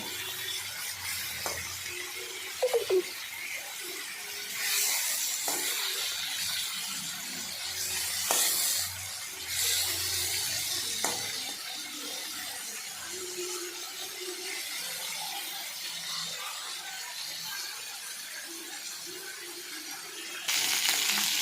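Meat browning in a pan for bhuna khichuri, a steady soft sizzle and crackle running throughout with occasional clinks of a utensil against the pan, close and fairly quiet.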